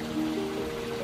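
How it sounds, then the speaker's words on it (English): Running water flows steadily as a wooden staff is dipped into a natural stream, a continuous close trickling wash with a faint tonal hum beneath it and no voices. "dip it in running water"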